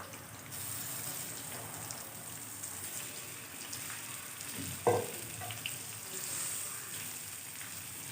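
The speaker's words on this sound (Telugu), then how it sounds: "ఉల్లిపాయ మొక్కలు బ్రౌన్ కలర్లో ఫ్రై అయ్యాక చేప మొక్కలు వేసుకోవాలి" Fish pieces sizzling in oil with onions fried to brown, a steady close frying hiss throughout with one brief clatter midway, no talk.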